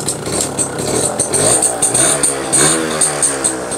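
A classic Suzuki motorcycle engine runs steadily at idle in neutral, with a smooth, dry-sounding mid-pitched putter and light revving pulses throughout, close and fairly loud.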